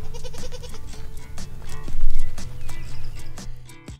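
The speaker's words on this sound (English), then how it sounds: "I also had a lot of time to play with the goats" Goats in Madagascar give several short, nasal bleats at close range, mixed with scattered clicks, knocks and rustling from the animals moving about.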